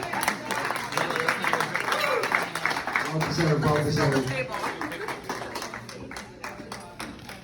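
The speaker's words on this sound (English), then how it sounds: "Let's give her another round of applause." Wedding guests clap and cheer in a lively burst after a toast, with talking and chatter mixed through the applause.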